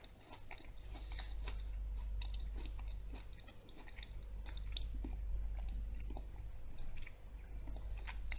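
Crisp apples, including a green variety, being bitten and chewed close up in a steady run of moist crunches and squishy mastication over low background rumble, with no talking.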